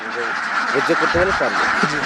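Several Khaki Campbell ducks from a flock of 750 quack in a cluster of nasal calls, fairly close, over a steady background hum with voices in the mix.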